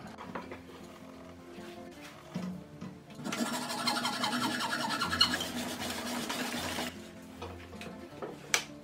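A homemade food holder is cut along a marked line, giving a close, rhythmic rasping saw or cutting sound that starts loud and steady partway through, runs several seconds, then stops, with scattered lighter scrapes and knocks before and after.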